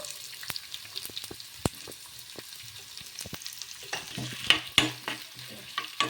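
Finely chopped onion, cumin and mustard seeds frying in hot oil, with a soft sizzle under frequent sharp spoon clicks against the pan that grow louder and busier toward the end.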